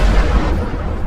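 An asteroid strikes the ground in an animation, a loud, dense explosion roar with heavy low rumble filling the whole short moment.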